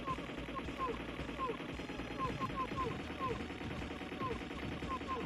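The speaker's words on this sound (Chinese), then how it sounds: "你一直这么开枪" Rapid gunfire from the Punisher arcade beat-'em-up, steady bursts of shots layered over game music and effects with a continuous dense texture throughout.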